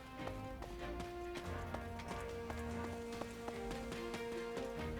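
Horse hooves clip-clop in a steady rapid rhythm in the video game Fire Emblem Warriors: Three Hopes, layered over game music.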